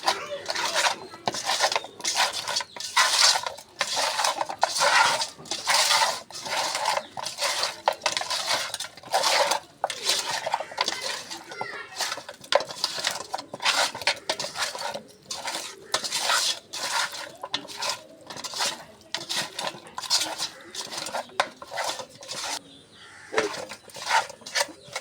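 Raw chicken pieces are mixed by hand with turmeric and salt in a metal bowl, producing a continuous rapid rhythm of scraping, clattering and wet squelching, close and loud, without speech.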